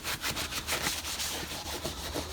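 Plastic Honda parts are hand-sanded before priming, making steady rasping strokes that rub back and forth in a regular rhythm. The scratchy sound is close and continuous, with no talking.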